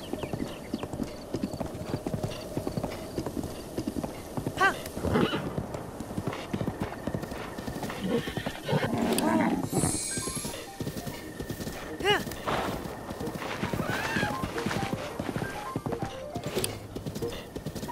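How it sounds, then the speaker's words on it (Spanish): A horse in The Legend of Zelda: Breath of the Wild gallops with a continuous rapid clip-clop of hooves, loud and close throughout, with a sharp whinny partway through, while a voice talks over it. "Es un buen caballo."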